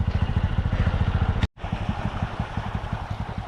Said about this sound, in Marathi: इकडे विशाल खूप छान बाईक चालवतो आहे आणि चिखलातून वगैरे गाडी वगैरे व्यवस्थित चालवली